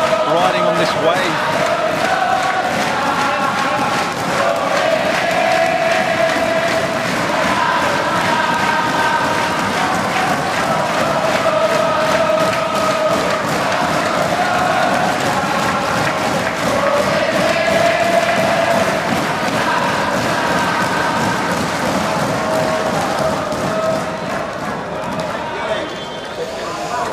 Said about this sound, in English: the crowd has just been incredible as well